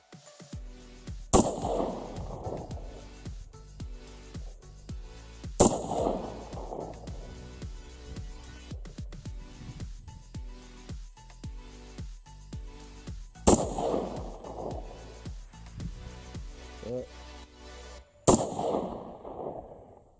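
A factory 16-inch AR-15 rifle fires four sharp, loud shots spaced several seconds apart outdoors at long range, each followed by a rolling echo.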